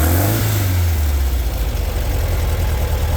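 Air-cooled VW 1776 cc engine on dual Dellorto carburetors, first start in six months, running with a loud, steady low rumble that settles from revving toward idle.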